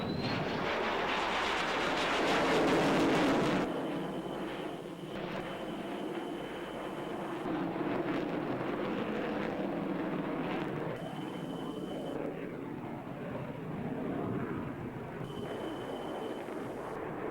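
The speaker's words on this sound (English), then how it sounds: "The F-16 Fighting Falcon pulls 9 Gs in this within the airfield boundary tight turn." F-16 Fighting Falcon fighter jet pulling a tight 9 G turn within the airfield boundary at the Australian International Airshow, a loud roaring jet engine rumble that swells early, then a steady distant roar with wind noise.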